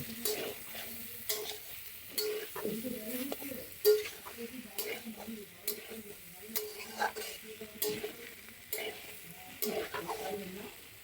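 Pabda fish curry with potatoes stirred in a pan, with repeated close scrapes and knocks of a spoon against the metal over a quiet, soft sizzle.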